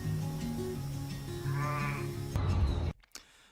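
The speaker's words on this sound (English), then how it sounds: "That's a really nice sheep." A sheep bleats with a wavering, harmonic cry over a steady background of other sound, then the audio drops out abruptly near the end.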